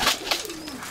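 Pigeons coo nearby in a short, soft, throaty call with a falling tone, heard alone against a faint background.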